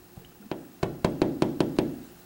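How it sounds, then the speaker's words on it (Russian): Knuckles rap on a hard surface seven times in a steady, close, fairly loud sequence, each knock sharp with a short hollow ring, no voices. "Вот так сейчас постучать."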